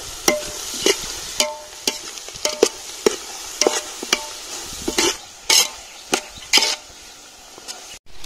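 Onions fry in oil with egg for idly egg podimas as a spatula scrapes and clacks against the pan in irregular strokes over a soft, steady sizzle.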